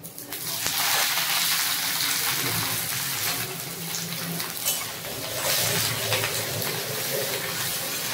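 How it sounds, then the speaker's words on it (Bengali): Chopped onion dropped into hot oil with fried garlic sizzles loudly and steadily, a dense crackling hiss close up with faint stirring clatter beneath. "এবার দিয়ে দেব পেঁয়াজ কুচি।"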